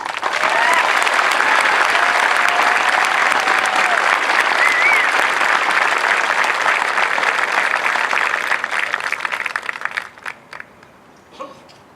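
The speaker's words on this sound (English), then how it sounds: "let's give a big round of applause for Master Sergeant Maranta for an amazing achievement" An outdoor audience at an Air Force Basic Military Training graduation parade applauds a master sergeant, a dense, sustained burst of clapping for about nine seconds that thins out into scattered claps and fades.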